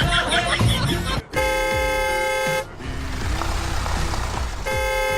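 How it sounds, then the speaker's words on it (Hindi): A car horn blares in several long, loud honks separated by brief gaps, with street and engine noise between the blasts. "आप हॉर्न बजा रहे थे।"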